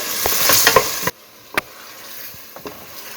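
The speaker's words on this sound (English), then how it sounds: "So I'm going to put my green tomato. And I'm going to cook this for 1 minute." Chopped green tomato goes into a hot pan and sizzles while being stirred, a loud, close hiss with a few clatters that drops sharply after a second, leaving a softer, steady fry with occasional light taps.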